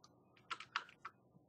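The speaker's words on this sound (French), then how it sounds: "Et on continue avec les touches du clavier." Computer keyboard keys pressed in a short quick run of about five crisp clicks, quiet and close, with no voices.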